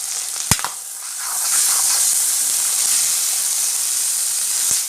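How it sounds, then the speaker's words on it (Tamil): Chicken liver with black pepper frying in a pan, a steady close sizzle and hiss as it is stirred, with a couple of sharp utensil clicks at the start. "இப்போ நம்ம வந்து பிளாக் பெப்பர் போட்டுக்கலாம் ரெண்டு டேபிள் ஸ்பூன் பிளாக் பெப்பர் இப்போ நல்லா கிளறி விட்டுக்கலாம்"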